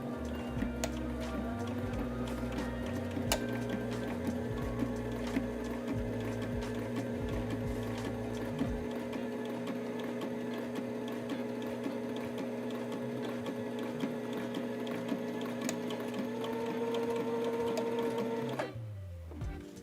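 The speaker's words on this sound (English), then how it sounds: "So we're going to sew a line, locking our stitches at the beginning and the end." A home sewing machine stitches a straight seam through fabric, a steady loud mechanical whir running continuously for about eighteen seconds before stopping near the end.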